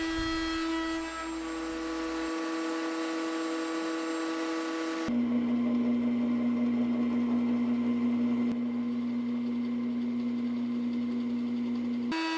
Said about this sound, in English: slots that I'm going to be cutting into this end panel on the scroll saw